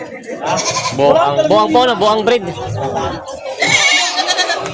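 Bleating from a goat of Boer and Anglo cross breed at a busy livestock market in Padre Garcia, Batangas, heard through near, continuous talk with several voices.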